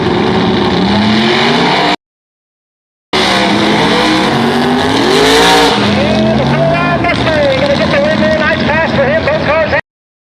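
Drag racing cars at a no-prep street race roar past loudly, their engine notes rising and bending as they accelerate. Tires squeal and an announcer talks over the racket, which cuts out briefly in the middle.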